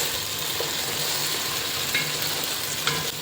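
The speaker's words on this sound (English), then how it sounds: "Add green peas. Mix well and cook until the raw smell of the peas is gone." Green peas frying in a pot for pulao give a steady, close sizzle, with a few faint clinks of a stirring spoon and no talk.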